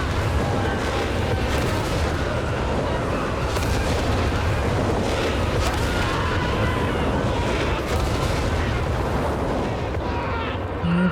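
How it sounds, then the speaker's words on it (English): Nebelwerfer incendiary rocket barrage in Company of Heroes 3, a dense, loud, continuous roar of rocket launches and explosions rumbling at long range, with no talk. "slightly better AoE on its incendiary rockets, so better mid and long range AoE profile"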